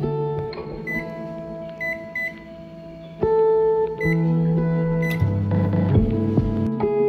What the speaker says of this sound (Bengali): মাইক্রোওয়েভের মধ্যে আমি এটা দিয়ে দিচ্ছি।